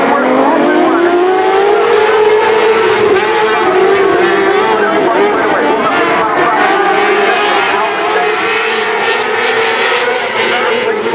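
Race cars in an 8-lap heat race at Gulf Coast Speedway roar loudly and continuously as they come off turn three into four, the engine note swelling and sliding in pitch throughout.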